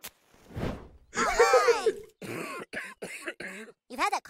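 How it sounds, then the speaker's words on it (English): A few rough coughs and throat-clearing bursts close by from the South Park cartoon, mixed with short spoken phrases from a voice. "You've had that cough a while"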